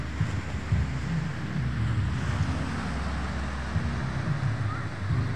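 Wind buffeting the microphone on a beach at Lingayen, Pangasinan, with a low rumbling wash of waves underneath and a few words of speech.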